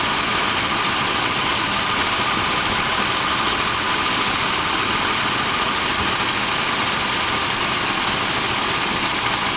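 A Dodge Ram's engine idles steadily with the air conditioning switched on and the condenser fan not spinning, a constant loud mechanical hum and drone close to the microphone with no speech over it.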